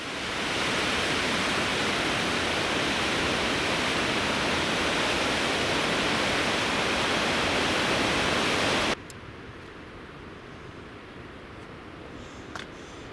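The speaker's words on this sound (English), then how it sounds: "I remember there were some good waterfalls along here." Waterfall along a mountain hiking trail on the Rae Lakes Loop, a loud, steady broadband rush of falling water that cuts off abruptly to quieter ambience with faint small sounds.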